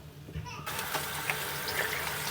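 Water streams steadily from a cabin bathroom sink tap as laundry is rinsed under it, a continuous close hiss that starts abruptly after a brief quiet moment, with faint splashing and handling sounds.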